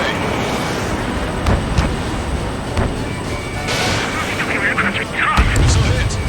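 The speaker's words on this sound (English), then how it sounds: "Missile away." A missile launched from a fighter jet in the Ace Combat 7 video game, a whooshing roar over steady engine rumble with several sharp bursts and a louder blast near the end.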